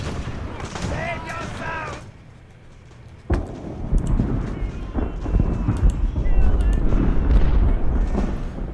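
Musket volleys and artillery fire in Ultimate Admiral: Age of Sail, Battle of Bunker Hill, crack and boom in loud bursts with rumbling echoes over battlefield noise, following a brief voice at the start.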